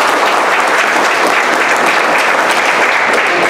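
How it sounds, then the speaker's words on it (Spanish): Loud, dense applause from a large crowd, steady and continuous throughout. "Así que un fuerte aplauso para ellos"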